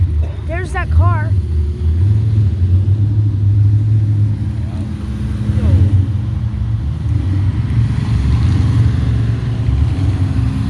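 Car engine rumbling and passing close by at an outdoor car show in Vinton, Iowa, a steady loud drone throughout with brief voices and chatter over it near the start.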